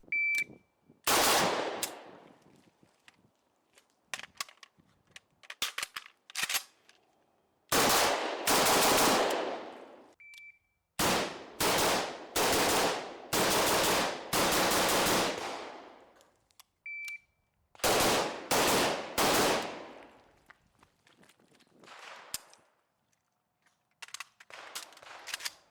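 A Riley Defense AK74 rifle fires in several loud bursts of rapid shots at an outdoor range, the strings separated by silent gaps, with a short electronic beep sounding a few times between strings.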